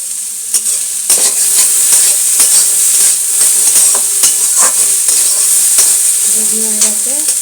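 Sliced banana stem frying with mustard seeds and dry red chilli, loud continuous sizzle with sharp scraping clicks as a spatula stirs it, heard up close with a faint tonal hum in the background.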